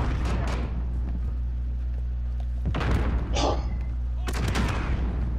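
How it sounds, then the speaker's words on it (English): Rocket launchers firing in Call of Duty: Modern Warfare, with heavy booming blasts and rumbling explosions over a constant low in-game drone, several bursts spread across the moment and a whooshing streak between them. "they're using rocket launchers, man"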